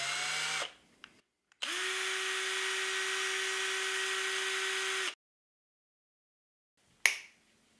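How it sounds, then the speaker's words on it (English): A power drill spins a computer mouse wheel mounted on a bolt, a steady loud whir for about three and a half seconds, with a short click before it and a sharp knock near the end. "I put a bolt on the power drill"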